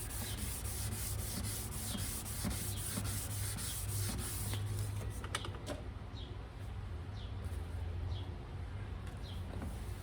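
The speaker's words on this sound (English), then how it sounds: "with the 1500, it definitely gets a lot smoother, a lot easier to move the sandpaper back and forth" Headlight lens being wet sanded by hand with 1500 grit sandpaper, a soft, steady back-and-forth rubbing at close range with faint squeaks.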